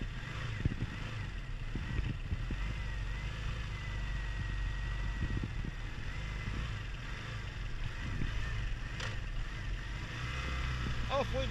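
A Honda Benly motorcycle engine idles as it warms up, holding a steady low rumble throughout, with voices talking faintly over it.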